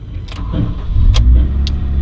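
Honda Integra Type R DC5 with a K20A engine cranks briefly and fires up, settling into a loud, steady idle close by, with no one talking.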